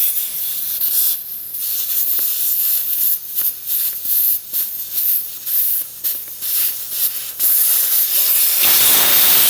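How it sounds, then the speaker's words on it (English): Air hisses steadily out of a motorcycle tire valve with its core removed, a loud broadband rush with brief fluctuations, tapering off near the end as pressure drops. "just make sure you guys remove the valve core."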